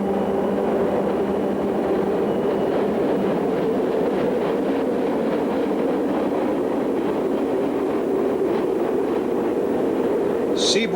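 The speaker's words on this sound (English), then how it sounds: "A Seaboard SD-45-2 and two SD-40-2s power a northbound across a high steel trestle at Habersham." Seaboard SD-45-2 and two SD-40-2 diesel locomotives haul a northbound train across a high steel trestle at Habersham, a loud, steady rumbling roar with faint rhythmic clatter running unbroken throughout.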